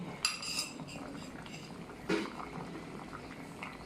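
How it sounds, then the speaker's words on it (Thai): Thai curry with bamboo shoots heating in a pot, a soft steady bubbling simmer with a couple of brief clinks of utensils against the pot, close and fairly quiet. "รอให้เดือดก่อนค่ะเดี๋ยวค่อยคนให้เดือดชัดๆกว่านี้"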